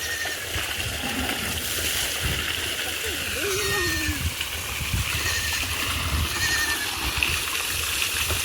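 Water gushing and splashing steadily from an opened village pipeline into a container as it fills, a continuous close wash of sound with a voice and faint animal bleats mixed in.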